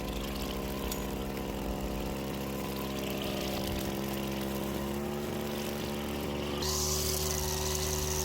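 An engine-driven brush cutter trims dense clover-filled grass in awkward corners, a continuous buzzing two-stroke whine with the pitch wavering as the line bites, then the revs rise toward the end.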